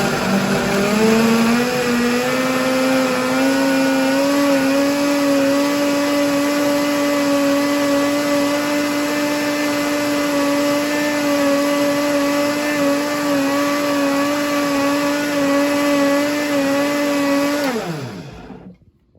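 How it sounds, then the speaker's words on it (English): A loud blender whirs steadily for a long stretch blending nuts, evaporated milk and water, its motor pitch rising slightly, then winds down and stops. "I'm gonna blend this."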